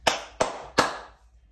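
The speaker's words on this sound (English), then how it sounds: "stand up, move around and clap their hands again" Three sharp, evenly spaced hand claps ring out close and clear in a children's animal dance song, each one fading quickly before the next.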